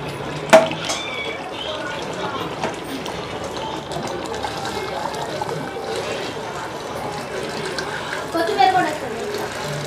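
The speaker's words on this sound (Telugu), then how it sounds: "ఇప్పుడు ఇందులో నీళ్లు పోసేద్దాం." Measured water is poured from a vessel into a pot of oily chicken biryani base, a soft splashing gush near at hand, with a few clinks and a louder burst toward the end.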